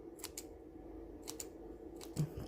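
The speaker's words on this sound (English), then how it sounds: "Then I'm just going to snip that bottom part." Scissors snip through sellotape in three short, crisp cuts spaced about a second apart, close and fairly quiet over a faint room hum.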